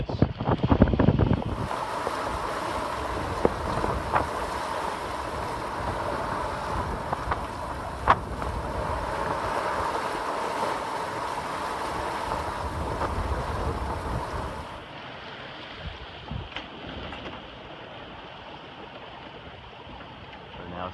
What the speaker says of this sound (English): off St. Thomas, U.S. Virgin Islands, with the jib boom in spinnaker mode here.